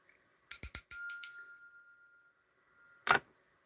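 A small, cheap hand bell rings in a quick run of bright strikes, its tone ringing out and decaying, then one more short ring after a pause; close and clear with no talking.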